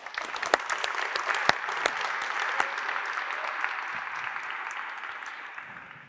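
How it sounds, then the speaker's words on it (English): Audience applause at a web performance conference talk, a dense sustained clapping crowd that fades slightly toward the end, with no talking over it. "can we have a round of applause for..."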